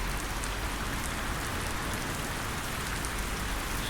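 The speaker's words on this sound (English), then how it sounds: "The rain is a little loud." Steady, dense rainfall hisses continuously throughout, fairly loud and even, with no voices or other sounds breaking through. Rain in Euro Truck Simulator 2 with Promods.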